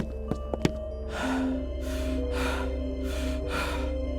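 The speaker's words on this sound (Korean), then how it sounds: "낯선 남자가 숨을 헐떡이며 우리에게 다가왔다." A man pants out of breath in a close sound effect, taking about four heavy, evenly spaced breaths in a steady rhythm.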